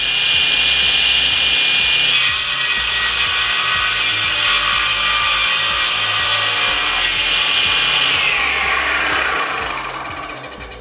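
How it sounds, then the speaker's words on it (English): SIP 3hp cast iron table saw making an angled cut through wood, the motor's steady drone rising into a loud bright scream as the blade bites for about five seconds, then easing back and spinning down. "to do an angled cut, we can just set the slide to that position, bring our wood in and do the cut"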